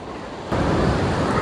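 Sea waves washing against a rocky shore at Dehiwala, Sri Lanka, a steady broadband roar that swells louder halfway through, with wind buffeting the microphone and no voices.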